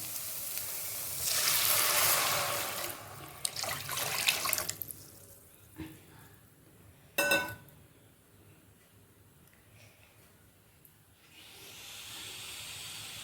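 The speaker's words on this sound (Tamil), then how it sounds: "இந்த தண்ணி அப்படியே எடுத்தது இதில் ஊற்றிடுறோம்" Water pours in a gushing stream into a cooking pot for a few seconds, followed by quieter clinks and a sharp clatter, then another soft rush of running water.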